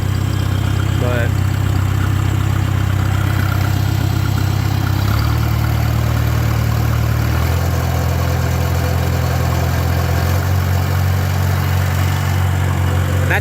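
A 1949 Farmall Super AV high-clearance tractor engine held at wide open throttle, a loud, close, steady low-pitched drone with a firm rhythmic beat that shifts pitch slightly a few times.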